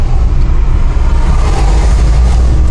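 A 2007 Hyundai New Starex van with about 148,000 km, recently failed on exhaust smoke, drones loudly and steadily from its engine, a dense low rumble with road noise and no voices.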